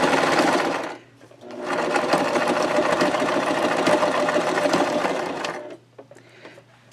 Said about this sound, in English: So we're still sewing across the bottom.